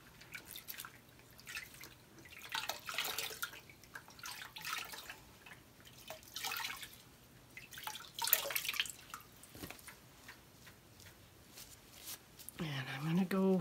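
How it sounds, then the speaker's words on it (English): Water dripping and trickling as a paint sponge is rinsed out during acrylic pour painting, soft intermittent splashes and drips at close range, with faint background noise. "Rinse my sponge out."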